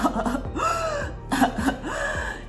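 A voice imitates whooping cough twice: a quick burst of coughs, then a drawn-in, rising whooping gasp each time.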